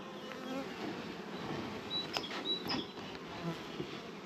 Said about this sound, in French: toutes les abeilles rentrent au milieu de la ruche là